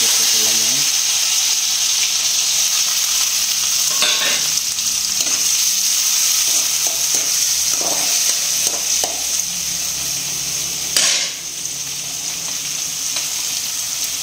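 Onion, tomato and curry leaves frying in oil with mustard seeds and browned garlic. A steady loud sizzle runs throughout, broken by scattered scraping and tapping strokes of a stirring spoon.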